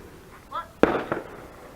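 A single sharp firework bang near the microphone, followed by a quick second crack and a brief crackling tail, with faint voices just before it in a home Fourth of July fireworks setting.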